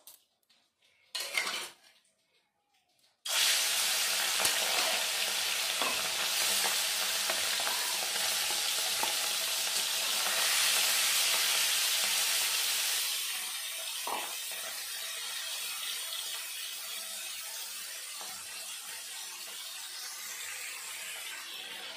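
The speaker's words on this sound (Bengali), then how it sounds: "এখন আমি মাছগুলো ভেজে নেব।" Shrimp (chingri) dropped into hot oil in a pan for a Bengali lau chingri dish, giving a loud, steady broadband sizzle after a brief clatter, easing slightly in the later part.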